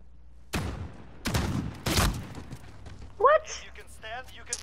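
Call of Duty: Modern Warfare gunfire: three loud, separate shots or short bursts ring out close by, followed by brief talk from players.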